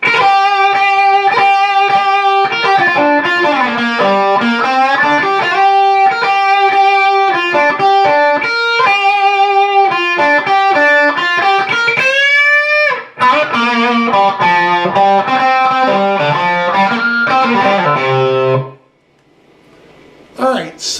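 Distorted electric guitar playing a solo break lick: loud sustained bent notes and fast runs for about eighteen seconds, ending abruptly before a short quiet tail.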